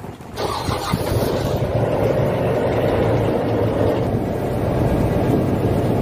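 Small motor boat pulling away from Kalibaru harbour in Jakarta, its engine starting up and then running steadily and loudly, with some wind buffeting the microphone.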